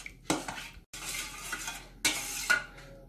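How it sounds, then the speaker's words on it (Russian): A spoon stirs salt and fresh yeast into a glass of warm water, scraping and clinking loudly against the vessel in a few bursts separated by brief pauses. "Все хорошо перемешиваем."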